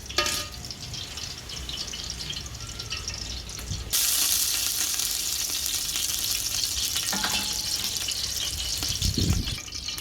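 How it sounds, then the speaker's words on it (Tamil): Cardamom, cloves and cinnamon fry in hot oil over a clay stove for biryani, a steady close hiss that grows louder and brighter about four seconds in, with a low thump near the end. "பட்டை கிராம்பெல்லாம் பொரிஞ்சதும் வெங்காயத்தை நம்ம தட்டலாம்"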